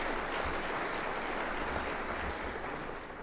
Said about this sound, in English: How about one more round of applause for the great folks here?